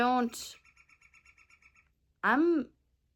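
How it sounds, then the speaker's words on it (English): A bird gives two loud, swooping calls, one at the start and one near the end, separated by a short run of quiet rhythmic chirps and then silence. "starting to get annoyed by the bird"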